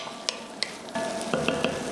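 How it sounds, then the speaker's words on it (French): Tomato paste being stirred and caramelized in the bottom of a saucepan for a bisque, with a soft sizzle and a few sharp spoon scrapes against the pan. "je mélange bien ma tomate. Je la fais un petit peu caraméliser dans le fond de ma casserole"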